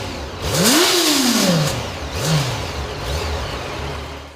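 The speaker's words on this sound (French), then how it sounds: "Le nouvel échappement, restylé, convainc également. Beau et sportif, sa sonorité est tout aussi séduisante." A Yamaha FZ8 motorcycle revs through its new restyled sporty exhaust, one strong rising and falling blip followed by two shorter ones, close and loud with no talking.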